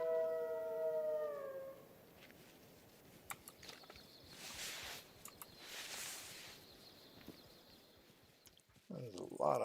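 Wolves howl in the hunting video game theHunter: Call of the Wild, several long wavering howls at the start fading into a quiet outdoor ambience with scattered clicks and faint game sounds, and a brief louder noise at the end.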